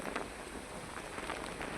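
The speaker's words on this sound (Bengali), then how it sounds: "একটা ভয়ঙ্কর বৃষ্টি শুরু হয়ে গেছে।" Heavy rain in a windy storm makes a faint, steady hiss and patter of drops throughout, with no voices.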